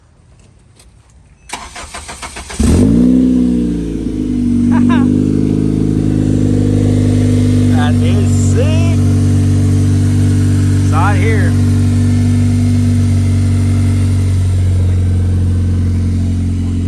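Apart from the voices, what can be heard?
Honda Civic engine running and revving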